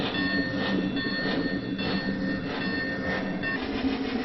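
Model locomotive running steadily along its track, a continuous mechanical hum and rattle with faint clicking, heard alone at moderate level throughout.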